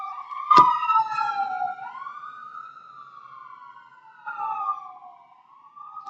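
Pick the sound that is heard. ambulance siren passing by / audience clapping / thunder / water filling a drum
ambulance siren passing by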